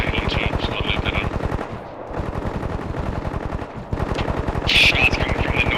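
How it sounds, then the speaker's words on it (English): Sustained automatic gunfire from the video game Bellum, dense rapid bursts that fill the whole stretch with only a short lull midway, then a louder, sharper volley near the end. "Shots coming from the north village."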